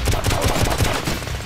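Rapid automatic gunfire in the video game Painkiller Black Edition, a fast, evenly spaced burst of loud shots lasting about a second and a half.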